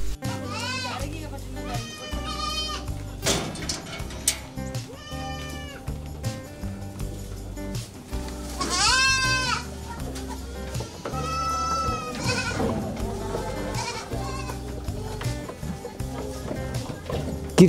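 Boer goats on a goat farm of more than 200 animals near Pokhara bleat repeatedly in wavering, nasal calls, some close and loud, others further off, over a busy background of voices and faint clatter.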